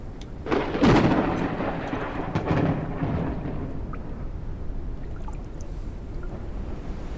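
Thunderstorm in the video game Forever Skies, a loud rolling thunder crack near the start followed by a second rumble, then a steady wash of rain and wind fading into the background.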